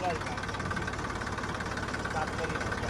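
A tractor engine idles steadily and close, a low continuous chug with faint vibration throughout and no break in the sound.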